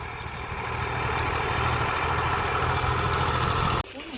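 A farm tractor idles at a produce market yard, its engine droning at a steady low level before cutting off abruptly near the end.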